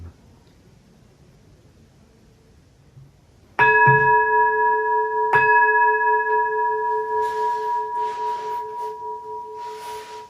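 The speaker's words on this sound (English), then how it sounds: "I love that temple bell because wherever you hit it, it makes a different sound." A temple bell is struck twice, a second apart, each strike ringing out with clear sustained tones that slowly pulse and fade. Soft rustling hiss comes in toward the end.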